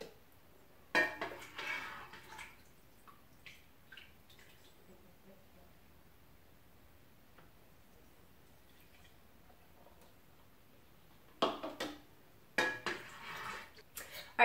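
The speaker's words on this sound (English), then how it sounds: "One ladle at a time in each jar so that I can keep it kind of even" Hot vinegary cooking juice from spicy carrots is ladled into glass jars, giving sharp clinks and taps of the ladle against glass in a few separate bursts, with long quiet gaps between them.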